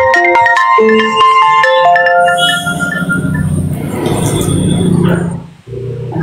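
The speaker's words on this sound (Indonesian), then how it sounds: "Telepon tuh." A phone ringtone plays a bright, loud melodic tune of stepped tones for about two seconds during a live stream, then gives way to noisy rumbling sounds and background chatter.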